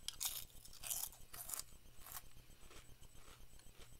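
Close-up crunching on crinkly Popcrinkles chips: several sharp crunchy bites in the first couple of seconds, then quieter, steady chewing with no talking.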